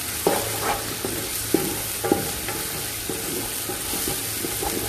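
Chopped onions frying in a pan for Ethiopian lamb stew, a steady close sizzle with several light stirring scrapes and taps spaced through it.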